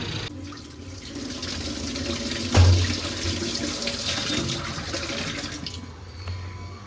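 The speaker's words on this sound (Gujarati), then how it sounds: "મસ્ત મજાનું પાણી આવી ગયું છે અને હવે ઠામડા ધોઈ નાખવાના છે" Tap water runs in a steady, close stream for washing dishes, with a single dull knock partway through and no talking.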